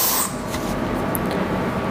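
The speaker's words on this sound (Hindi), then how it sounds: "साथ साथ हार्ड स्प्रे।" Hard-hold hair spray hisses from an aerosol can in a steady, close burst lasting about two seconds while a wedding hairstyle is being set.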